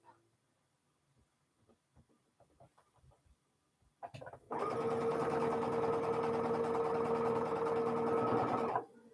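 A sewing machine stitches together pieces of a quilt star block, running steadily and loudly for about four seconds after a quieter stretch of faint handling noises and rustling.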